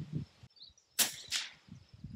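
Quiet suppressed shots from a Ruger Precision Rimfire rifle firing CCI 970 fps ammunition through a suppressor, two soft sharp cracks about a third of a second apart amid faint background rustle.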